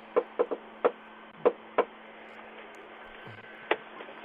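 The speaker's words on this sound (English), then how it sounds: "Why do everybody do that knock?" Knocking on a house door: a quick rhythmic pattern of about six sharp raps in the first two seconds, then a lone final knock after a pause, clear and close with no talking.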